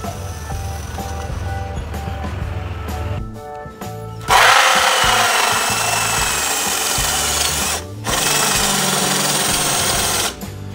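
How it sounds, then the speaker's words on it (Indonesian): A power drill whines loudly as it bores into the metal casing of an off-grid solar inverter, starting after a short pause and running in two long bursts. "Sudah ada lubangnya, langsung kita bor."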